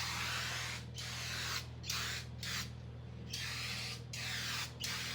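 An aerosol spray paint can hisses in several short bursts of about a second each, separated by brief pauses, as it coats a spot on a truck hood over a low steady background hum.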